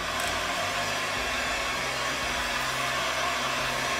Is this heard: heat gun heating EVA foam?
yes